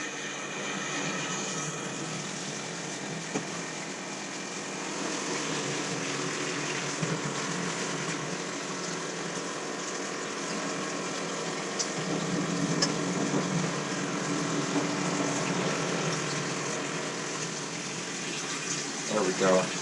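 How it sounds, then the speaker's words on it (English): Water flows steadily out of a hose while a tankless water heater is flushed with vinegar, a constant rushing hiss with faint talk over it. "So we're getting a really good just flow of water."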